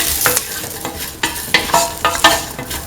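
Spices stirred with garlic, ginger and shallots in a hot pan for a beef stew, sizzling under repeated scraping strokes of a spoon.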